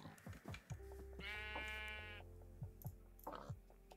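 A sheep bleating in Minecraft, one clear, drawn-out bleat at moderate volume amid scattered clicks and footsteps from gameplay.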